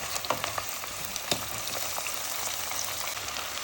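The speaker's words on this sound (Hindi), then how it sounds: "तो अब हम इसमें डाल दिया है चिकन और इसको भी हम फ्राई करेंगे जब तक इसका कलर चेंज ना हो जाए" Chicken pieces fry in a pan with onions for a biryani, giving a steady close sizzle with occasional crackles and spatters throughout, no voices.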